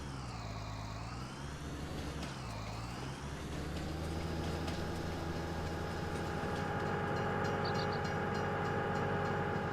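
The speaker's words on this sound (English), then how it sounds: "It's a train. I get hit by a train." A train passes in the Farming Simulator 19 video game with a loud, continuous rumble and a rising and falling engine drone that stays steady throughout.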